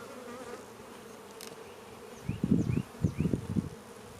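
Honey bees buzz inside an opened hive box of a weak colony, a steady low hum swelling into several louder bursts of close buzzing toward the end.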